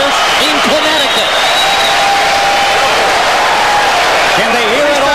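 Crowd cheering at a boxing match between rounds, a sustained roar of spectators with an announcer's voice running over it.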